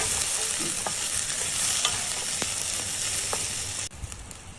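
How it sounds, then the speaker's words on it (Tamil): Small shallots frying in hot oil for mutton curry give a loud, continuous sizzle with a few faint clicks of a spoon, close up and with no speech. "நம்ம அந்த சின்ன வெங்காயத்தை அதில் போடணும் அதை போட்டு நல்லா வதக்கிட்டு"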